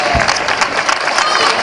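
Applause for a flamenco singer at a carnival ceremony in San Fernando, a dense burst of crowd clapping, loud and continuous, with a little cheering mixed in.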